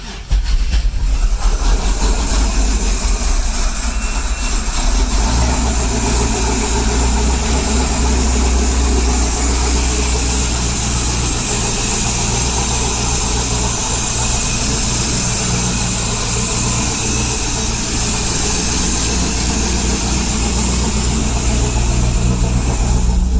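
Right after its first start, an engine fitted with headers runs and idles steadily, a loud, continuous rumble close by with a rough start at the beginning and no talking.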